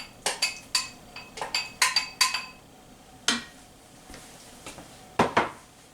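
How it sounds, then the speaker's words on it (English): Mexican corn is added to a dish with a run of sharp metallic clinks and taps of utensils against a pot or bowl, a quick cluster of hits followed by a few scattered ones, close and clear with no talking. "now to this, I'm going to add my Mexican corn"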